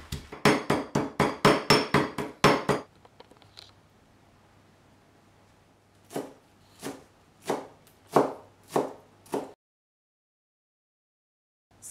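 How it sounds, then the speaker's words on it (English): Garlic cloves crushed with a pinch of salt under the flat of a knife on a cutting board: a rapid burst of about ten sharp thuds, then after a pause five slower, separate knocks, close up with no talking. "Crush the garlic like this."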